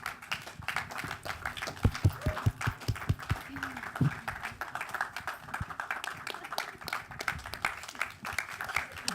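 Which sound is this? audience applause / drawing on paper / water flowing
audience applause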